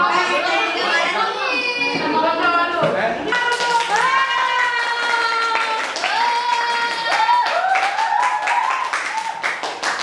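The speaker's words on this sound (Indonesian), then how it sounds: "beri tepuk tangan" Audience clapping at a university geography teaching-practice session, with children's and adults' voices chattering and calling over the claps throughout.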